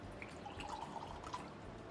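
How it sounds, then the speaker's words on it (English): Water is poured from a larger container into a smaller one during a practical-life exercise, giving a faint, steady trickle with soft drips, heard alone without talk. "just practicing pouring from one container to another"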